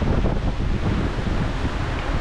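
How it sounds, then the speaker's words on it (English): Strong wind of 30 to 35 knots roars across the microphone on a sailboat at sea, with big long ocean waves rushing underneath in a loud, continuous broadband wash. "we're surfing down some of the waves at 14 knots in about 30 to 35 knots of wind, big long waves"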